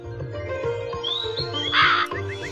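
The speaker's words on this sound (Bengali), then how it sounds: "সর, ভালোই ভালোই বলছি কাক" Crows caw in the Meena Raju video game, with a couple of sharp, harsh calls rising over a looping, thumping background rhythm from the game.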